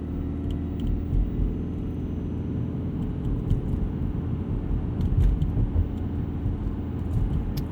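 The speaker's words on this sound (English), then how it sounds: "hopefully that gives you guys a pretty good idea of what this Maverick is like to drive at night" Steady low road rumble and tire drone inside a 2022 Ford Maverick Hybrid XLT pickup driving at night, constant cabin hum with faint occasional ticks and no talking.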